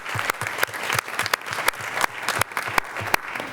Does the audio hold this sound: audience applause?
yes